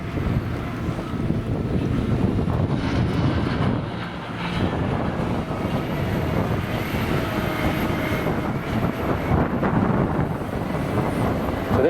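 A JCB 435S wheel loader with a 230 hp six-cylinder Cummins engine, weighing just over 14 tonnes, works a silage clamp at a grassland demonstration. Its engine roars loudly and steadily throughout, dipping briefly midway, with wind buffeting the microphone.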